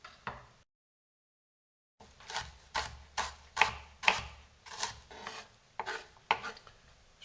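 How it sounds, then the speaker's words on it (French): An onion is chopped with a knife in a rhythmic series of about ten close, crisp cuts against a board after a brief pause, quiet and with no talk. "Donc je vais couper l'oignon déjà."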